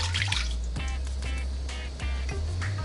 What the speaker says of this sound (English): I'm going to take the beef broth, I'm just going to pour that into the pot now